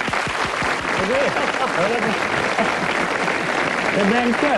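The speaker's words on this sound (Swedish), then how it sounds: "En applåd!" A studio audience on a 1996 Swedish late-night talk show applauds loudly and steadily throughout, while someone speaks briefly over the clapping.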